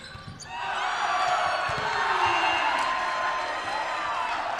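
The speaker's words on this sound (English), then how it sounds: "Crowd definitely getting into it a little bit here." A crowd cheers at a high school volleyball match between the Altoona Mountain Lions and Chambersburg in a gym, rising after a quiet moment into a loud, sustained roar that holds steady to the end.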